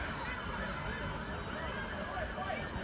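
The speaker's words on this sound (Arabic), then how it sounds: "خلاص سامع الصوت. الإسعاف كله تحت." A wailing ambulance siren sounds steadily, with cycling tones over continuous background noise and a murmur of voices.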